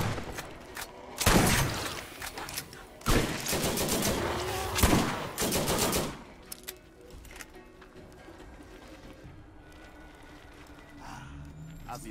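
Shotgun blasts in Borderlands multiplayer: three loud, sharp bursts a second or two apart, then quieter game ambience, with faint breathy voice sounds around them.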